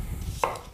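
A knife chops through an onion on a cutting board, giving a single short, crisp knock against low background hum.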